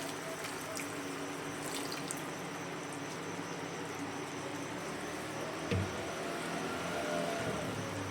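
Water is poured into a pot of chicken adobo, a continuous rushing, splashing pour at moderate level with a brief louder splash near the end.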